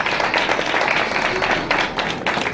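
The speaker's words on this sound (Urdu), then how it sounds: "زوردار تالیاں بجائیں گے" A crowd at a Bible quiz event claps loudly in a short, dense burst of applause lasting a couple of seconds.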